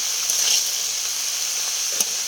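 Vegetables stirred and frying in a pan give a steady, moderate sizzle with a few faint scraping stir sounds, no voices.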